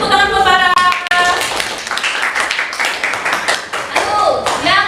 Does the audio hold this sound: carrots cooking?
no